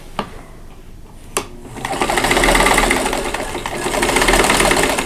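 Sewing machine stitching quilt block seams, starting with a couple of sharp clicks before the motor whirs up into a loud, continuous, close-up stitching hum that holds to the end.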